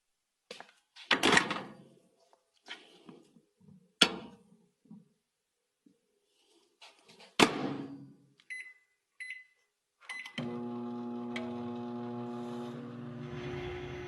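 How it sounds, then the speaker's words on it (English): Quiet thunks and clicks of a microwave door and controls, then a few short beeps, give way to the steady, close hum of the oven running with a regular egg inside, continuing to the end. "This is just a regular egg, and I want to see what happens if I put it in the microwave."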